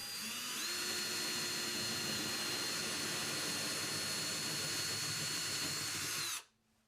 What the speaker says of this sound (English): Next, I bore a 1-inch hole in the wall.